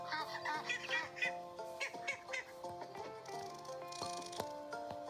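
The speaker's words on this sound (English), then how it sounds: "This goose is called a Canada goose." A Canada goose honks from a farm video game, a few short nasal calls over steady background music, near and clear.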